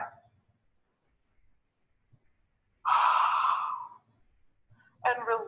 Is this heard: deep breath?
yes